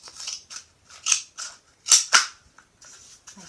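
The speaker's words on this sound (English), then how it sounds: "And then I'll take my scissors and I'm going to cut down the length of the" Scissors snip lengthwise down a cardboard toilet paper tube, a series of sharp, close crunchy cuts with brief pauses between them, no talking.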